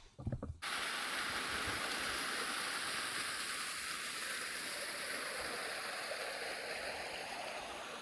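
Water rushing steadily along a rain-soaked mountain trail, a loud continuous stream-like wash that starts after a brief noisy moment and holds unchanged to the end.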